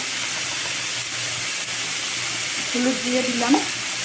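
Vegetable curry with salt and turmeric sizzles and hisses in a pan as it is stirred, a steady close-up frying sound. A brief tonal voice-like sound rises near the end.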